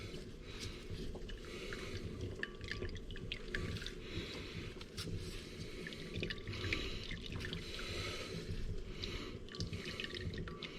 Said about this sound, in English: you can see a lot of liquids coming out